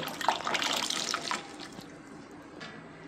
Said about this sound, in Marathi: आता याच्यामध्ये मी राजमा ओतून घेते।